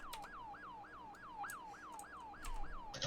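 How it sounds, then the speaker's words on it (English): A wailing emergency siren cycling in quick, regular rising and falling sweeps, faint and steady throughout, with a few clicks and some low rumble near the end. "I don't know whose siren that is"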